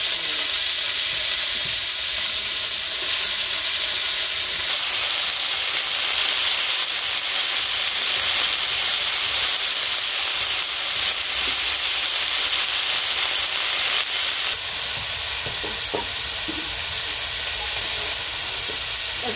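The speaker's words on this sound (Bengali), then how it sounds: "ভাজা হয়ে গেছে, এখন ছোট ছোট আলু কেটে রাখা দিয়ে দিলাম।" Small cut potatoes and green chillies frying in oil in a pan at home, a steady broad sizzle and hiss running close and continuous throughout, with a few faint stirring clinks near the end.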